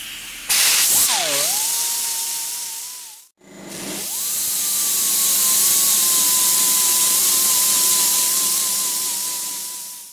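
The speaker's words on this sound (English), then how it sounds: "Scotch-Brite roll lock wheels, they work really good for deburring sharp edges" Scotch-Brite roll lock wheel on a power tool deburring sharp metal edges in a fabrication shop, a loud high whine spinning up, briefly cutting out, then revving again and holding a steady abrasive hiss.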